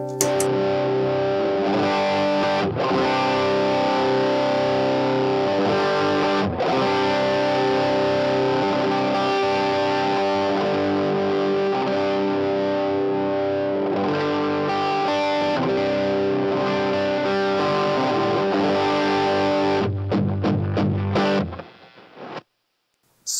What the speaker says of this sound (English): There's a really nice blend with this external overdrive pedal and the built-in amp model.